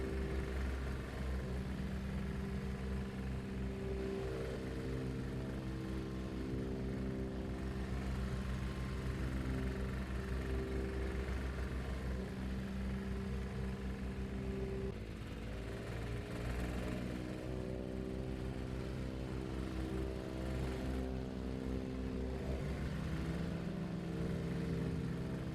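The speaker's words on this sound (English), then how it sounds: "I prefer just hearing the engine." A vehicle engine runs in Farming Simulator 25 during road building, a steady droning hum with strong tonal layers that shifts pitch about midway, then settles again, alone without talk.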